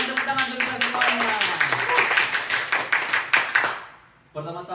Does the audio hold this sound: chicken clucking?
no